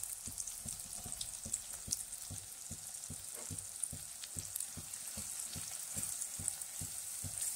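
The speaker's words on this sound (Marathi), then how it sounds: "आता आपण मसाले घालून घेऊ." Spices sizzle and fry in hot oil for a crab curry, with steady crackling hiss and regular soft clacks of a spoon stirring the pan at an even rhythm, close and clear with no talking.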